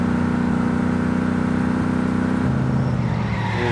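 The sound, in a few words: car engine driving in video game My Summer Car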